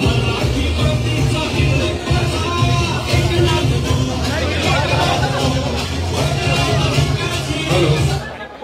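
Dense, steady crowd hubbub fills a stage at a Shiv Sena political event in Nashik, with overlapping voices, shuffling and loud mixed chatter close by throughout before fading at the end.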